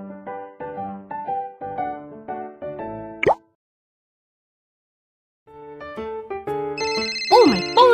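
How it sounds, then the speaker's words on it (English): A cartoonish phone ringtone plays in the Little Panda Policeman children's video game, a bright melodic ring with bouncy tones, then a pause and more chiming game sounds. "Ringing."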